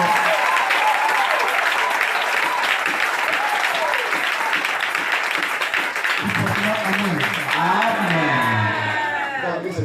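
A church congregation applauds and cheers during an evening preaching service, loud sustained clapping with whoops from a large crowd, a voice rising over it toward the end.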